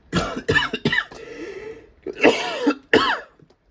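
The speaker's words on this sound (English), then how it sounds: "I've got a coughing fit." A coughing fit: several harsh, wet coughs in quick bursts with a brief pause, close to the listener, ending with a throat-clearing rasp; sniffles accompany it.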